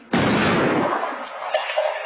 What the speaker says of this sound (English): Wednesday evening in southeast London, and there's an explosion.